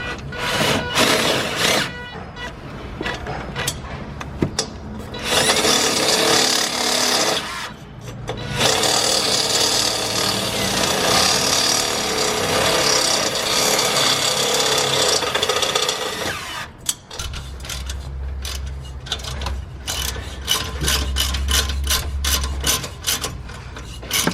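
An impact wrench drives a bolt home during T51R turbo upgrade work on a Nissan Skyline R34, giving long, loud, harsh bursts of rattling power-tool noise with short pauses between runs, close by and without talk.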